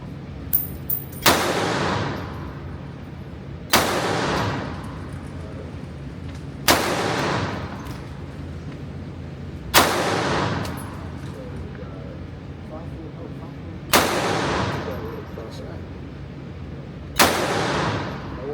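Six single shots from a Masada 9 mm pistol fired outdoors, sharp loud cracks spaced a few seconds apart, each ringing off into a decaying tail.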